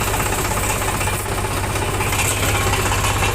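A tractor engine idles steadily nearby, a low rhythmic diesel chugging with a faint knocking pulse and vibration that holds constant without revving.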